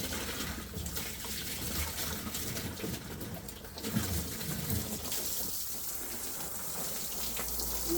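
Water runs steadily from a tap into a container while reclaiming dry clay, a continuous soft hiss and splash with a slight change in tone partway through.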